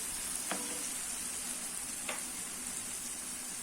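Tomato with turmeric, chili, coriander and asafoetida powders sautés in a pan for tiffin sambar, giving a faint, steady sizzle, broken twice by brief scraping stirs.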